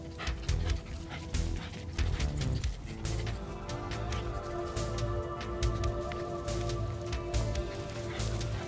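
Border collie puppies let out faint, scattered yips and whimpers over a steady background of noise and patter, with no talking.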